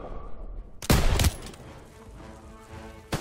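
Call of Duty WW2 machine gun fire comes as a loud, rapid burst of close shots, then a quieter gap and another short burst at the end.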